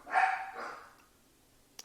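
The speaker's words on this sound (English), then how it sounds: "That's my dog." A single dog barks twice in quick succession, close and fairly loud, then falls silent.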